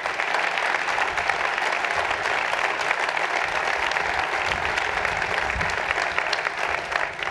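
Sustained audience applause at a political talk, steady dense clapping from a crowd throughout with no break.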